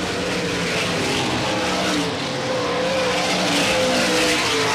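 A Ford-powered race car at Selinsgrove Speedway during a 1988 Jack Gunn Memorial race, a continuous loud engine roar in dense racing noise throughout.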